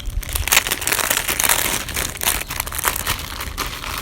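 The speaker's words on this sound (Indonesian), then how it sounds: "langsung aja kita unboxing." Plastic packaging crinkles loudly and continuously as a white OG Script t-shirt is unboxed. The dense crackling and rustling stays up close for the whole stretch, with no speech.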